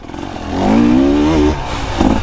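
A 2024 KTM EXC 300 two-stroke dirt bike engine runs smoothly, its close, loud tone rising and settling in a short rev over a low rumble, with no voices.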